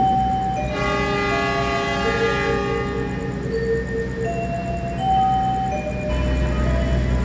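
The Brawijaya train departs its station bound for Gambir, a long steady tonal horn-like chord sounding over rumbling rail noise and platform ambience, fairly loud and sustained.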